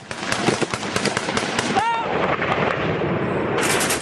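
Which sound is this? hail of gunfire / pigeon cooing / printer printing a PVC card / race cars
hail of gunfire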